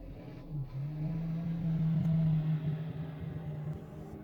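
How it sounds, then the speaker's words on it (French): A tractor engine drones steadily in the background, a low sustained rumble holding fairly even with a slight swell in the middle before easing off. "il y avait autant de bruit et juste un tracteur en arrière-plan"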